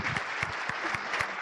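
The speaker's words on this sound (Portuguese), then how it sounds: "palmas para a Jane" Audience applause after a co-creation talk, steady dense clapping from a crowd at moderate distance, with a few lower thumps pulsing through it and no voices on top.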